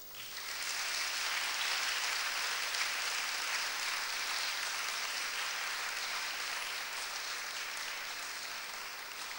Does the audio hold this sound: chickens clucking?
no